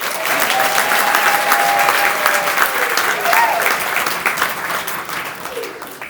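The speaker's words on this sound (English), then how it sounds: "if you think Lily looks gorgeous tonight, please clap." A crowd gathered for an evening of speeches applauds loudly and steadily for Lily, a dense wash of clapping with faint cheers, slowly tapering toward the end.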